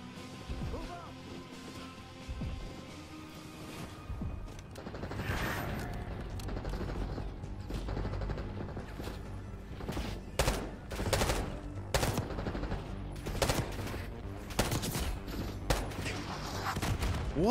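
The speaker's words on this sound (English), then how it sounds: "Who's shooting me?" Rapid gunfire bursts and single shots crack through a Call of Duty Black Ops 6 match on PS5, dense and repeated over a steady game background, with several loud close volleys toward the end.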